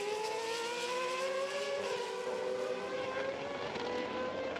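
AutoGP race car at the Hungaroring in the 2015 race, its engine note sweeping steadily up and down through the final three corners, loud and continuous with a rising and falling pitch and no voices over it.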